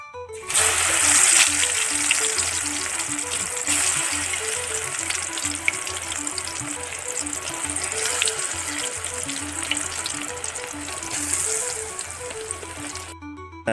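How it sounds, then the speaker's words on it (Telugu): Spinach pakoda batter fries in hot oil, giving a dense, continuous sizzle and crackle that holds steady and close for the whole stretch, with no voices. "ఆ పేస్ట్ను మనం ఇప్పుడు గరమైన మంచి నూనెలు వేసుకుంటున్నాము"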